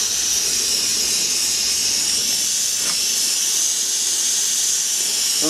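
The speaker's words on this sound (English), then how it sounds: "You can hear the oil boiling about inside the pipe." Oil boiling inside a brass oil pipe as it is heated for silver soldering, a steady loud hiss like escaping steam running throughout, with a faint bubbling undertone.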